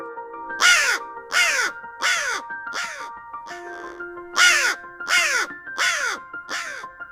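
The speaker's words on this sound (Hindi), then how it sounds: "हवेली की छत पर एक काला कौवा जोर जोर से बोलने लगा" A crow caws loudly in a series of harsh, repeated calls, four in a row, a short pause, then four more, close and clear.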